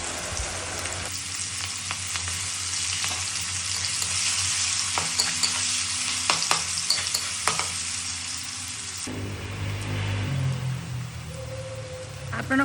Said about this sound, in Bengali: পেঁয়াজের ওপরে সামান্য আদা আর সামান্য রসুন যতটা লাগবে পরিমাণ মতন আমি দিয়ে ভালো করে ভাজা ভাজা করে নেব